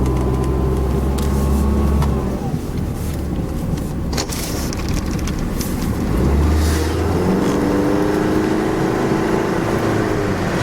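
A Pontiac Grand Am SE coupe with a Quad 4 four-cylinder engine accelerating on a test drive, a steady interior engine drone that rises in pitch with gear changes, heard from inside the cabin with road noise.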